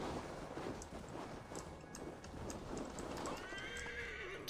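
A horse in Assassin's Creed Valhalla neighs while its hooves clop, the whinny rising clearly near the end over a steady bed of hoofbeats and wind.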